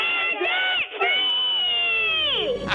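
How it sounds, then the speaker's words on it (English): A crowd lets out a loud, sustained group scream after a countdown, a celebratory debt-free yell with voices rising together, briefly dipping, then trailing off at the end. "Let's hear a debt-free scream. 3, 2, 1."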